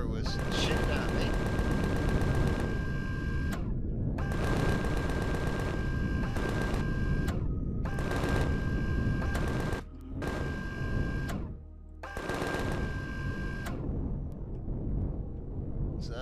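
Enemy guns in the space survival game Empyrion Galactic Survival fire in sustained rapid bursts from two directions, loud continuous automatic rattling broken by brief pauses.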